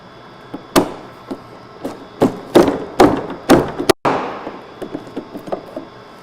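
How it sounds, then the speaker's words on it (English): Sharp metallic knocks from a tool tightening the lock ring on an S&B 40-gallon replacement fuel tank for a 2020-2023 Winnebago Revel, about ten strikes at uneven intervals, close and fairly loud, with no talking. "you can insert your tool and tighten the lock ring."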